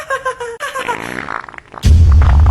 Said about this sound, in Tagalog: Umutot ka ba?